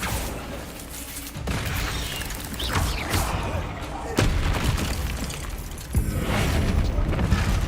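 In Hogwarts Legacy, the Bombarda explosion spell produces heavy booms and crashing blasts, with a few sharp detonations over a constant roar of game effects and ambience.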